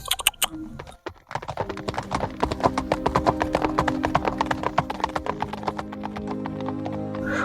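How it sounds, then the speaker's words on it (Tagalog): Horses gallop past, their hooves clip-clopping in a fast, dense, steady rhythm close by after a brief shout at the start. "Bugaw ni Kamlon sa mga kabayo"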